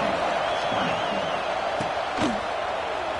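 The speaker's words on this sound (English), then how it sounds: "this crowd is buzzing after that last score" A college football stadium crowd keeps up a broad, steady roar after a score, with a couple of brief sharp knocks cutting through the wash of noise.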